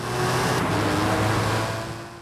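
Aston Martin DBS Superleggera accelerating, a steady, loud engine drone with a sustained tone that holds for a couple of seconds before easing slightly at the end.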